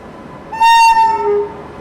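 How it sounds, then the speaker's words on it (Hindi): A WAP-7 electric locomotive from Ghaziabad shed leads the Bhubaneswar Duronto Express into a station platform, sounding a loud sustained two-tone horn for about a second over low rumble. "क्या ज़बरदस्त हॉन्कर लोकोमोटिव लगाया है भुवनेश्वर दुरंतो एक्सप्रेस को।"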